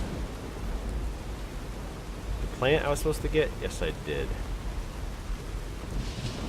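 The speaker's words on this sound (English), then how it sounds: "Man, it rains a hell of a lot in the desert." Steady rain falls in the desert of Fallout New Vegas, a soft constant hiss under a brief stretch of game dialogue.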